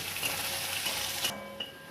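Chopped onion sizzles in hot oil in a pan with garlic and black cumin for a Bengali stir-fry, a close, loud frying hiss that cuts off abruptly near the end.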